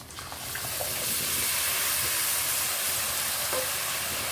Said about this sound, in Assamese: আদা নহৰু পেষ্ট দিলোঁ, তেলতে দিলোঁ